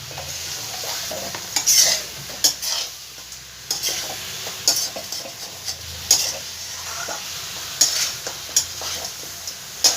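A fish and mung-masoor lentil mixture is stirred in a pot, with repeated scraping and clinking strokes of a spoon against the pot at an irregular rhythm over a faint sizzle, close and moderately loud.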